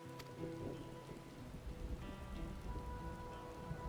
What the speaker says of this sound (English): Of course it has to rain.